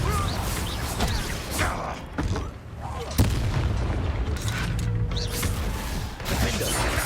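Fiery Confringo spell blasts in the Hogwarts Legacy video game, a string of loud booming explosions and crashes through a busy duel, with game voices talking over the chaos.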